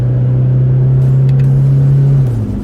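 A diesel pickup engine held at high revs with the accelerator floored, around 3,000 rpm: a loud, steady drone from inside the cab that dips slightly in pitch near the end, with no talking.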